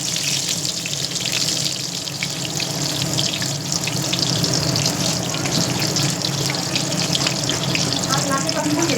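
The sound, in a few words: eggplant slices frying in hot oil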